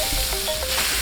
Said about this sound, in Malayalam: ഈ ഗ്രേവിയിലോട്ട് കുറച്ച് ചിക്കൻ ഇട്ടിട്ട് നല്ലോണം ഇളക്കണം കേട്ടോ